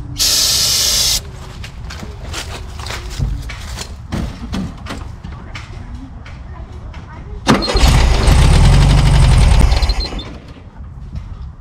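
A 1974 Volkswagen Super Beetle engine with a mechanical fuel pump cranks in short bursts, then catches and roars loudly near the end before cutting off, with voices talking at the start.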